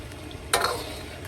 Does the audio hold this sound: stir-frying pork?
yes